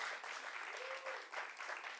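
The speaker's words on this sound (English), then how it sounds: "Can we have one more round of applause for her, please?" A brief, steady burst of audience applause at a Miss Namibia pageant handover ceremony, dense clapping heard from a moderate distance with a faint voice partly under it.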